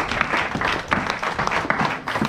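A church congregation claps together in a dense, sustained round of applause with some crowd murmur mixed in.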